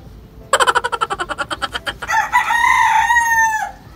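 Pet roosters crowing on a backyard farm at seven in the morning: a rapid run of sharp, close clucks opens into a loud, drawn-out cock-a-doodle-doo, with no talking.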